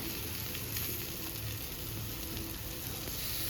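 Tarle fish frying uncovered in oil in a pan, a steady close sizzle with a soft crackle running evenly throughout, with no talk over it.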